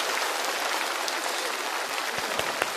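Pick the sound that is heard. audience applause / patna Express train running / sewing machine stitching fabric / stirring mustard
audience applause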